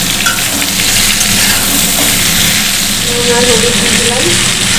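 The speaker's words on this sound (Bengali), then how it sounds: "ঝিঙেটা একটু ভাজা ভাজা করে নেবো" Steady, close sizzling and crackling of ridge gourd frying in a hot pan, a continuous dense hiss throughout.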